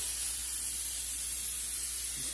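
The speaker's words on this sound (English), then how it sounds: "I think I'm going to spray my pan." Cooking spray hisses steadily onto a tinfoil pan in a home kitchen, one continuous close spray lasting the whole moment.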